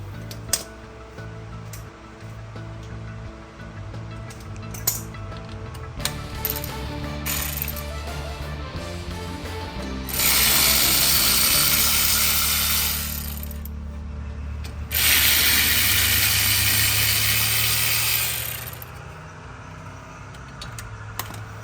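Ratchet loosening the caliper bolts on a 2012 BMW front brake during a rotor and pad job, heard as rapid close clicking bursts that swell into two longer loud stretches of steady ratcheting.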